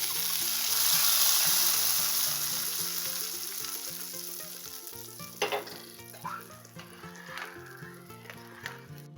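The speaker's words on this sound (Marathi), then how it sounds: "आपण जो तुपामध्ये बदाम काजू परतवून घेतले तो तडका यात टाकून घेऊ." Ghee tempering with fried almonds and cashews sizzles as it is poured into thickened sabudana kheer, a steady quiet frying hiss that fades, followed by a few soft stirring and clinking sounds.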